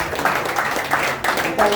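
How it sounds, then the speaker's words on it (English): An audience in a hall gives a round of applause at a 50th birthday lecture; steady, moderately loud clapping from many hands, dense and continuous for the short stretch. "give her a resounding round of applause"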